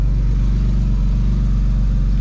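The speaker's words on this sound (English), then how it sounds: "So I say we give it a couple of revs and then we go for a drive" A Porsche GT4 RS Weissach idles in neutral, its engine giving a loud, steady low rumble close by with no clear rev spikes and no talk.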